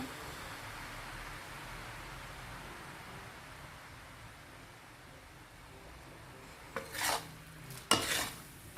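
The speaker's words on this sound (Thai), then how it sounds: "เพราะต่อไปนี้เราแค่คลุกนะ" Over a faint low-heat hiss, shrimp chili paste (nam prik narok) gets two brisk scraping tosses in a pan near the end, each a short, close burst of stirring.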